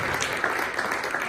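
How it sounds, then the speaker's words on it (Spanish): A church congregation claps hands together in a dense, steady wash of applause filling the room, loud and continuous with no individual claps standing out. "Denle palmas al Señor."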